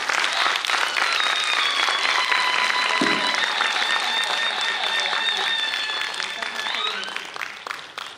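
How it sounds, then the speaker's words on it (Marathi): An audience at a welcome ceremony honouring Shri Shankar Abhyankar bursts into loud, sustained clapping, a dense crowd applause that holds steady for about seven seconds and then thins and fades toward the end. "सगळ्यांनी जोरात टाळ्या वाजवायच्या आता."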